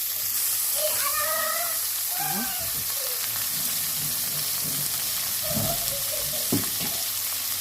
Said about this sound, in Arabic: شوحيها كده مع البصله